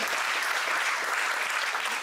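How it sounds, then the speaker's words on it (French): Brief, dense applause fills a conference hall, many hands clapping at once, steady and fairly loud, with no voices standing out. "Je vous applaudis."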